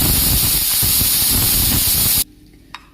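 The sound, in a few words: pressure cooker whistle releasing steam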